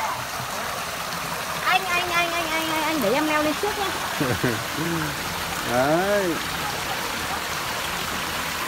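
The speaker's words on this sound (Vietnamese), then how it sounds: "Thật suối rất là đẹp." A clear, clean forest stream flows steadily as broadband rushing water throughout, with voices talking over it in a wooded setting.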